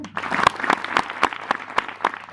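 An audience clapping in unison at a religious talk, a brisk run of about ten regular synchronized claps, loud and close.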